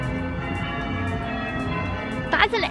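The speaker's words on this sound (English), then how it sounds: "that is an 8 bell peal, which is very impressive for such a tiny little local village church" A small village church rings an eight-bell peal at evening bell-ringing practice, the bells sounding steadily and distantly beneath a continuous hum, with a brief voice near the end.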